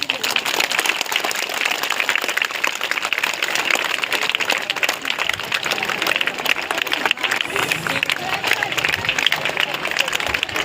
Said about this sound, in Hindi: सबको तालियों से स्वागत कीजिए।